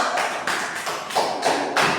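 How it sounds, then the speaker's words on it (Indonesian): Fourth-grade primary school classmates clap for a presenting group, a few spaced bursts of close, sharp hand taps in a classroom. "tepuk tangan dulu untuk kelompok 1"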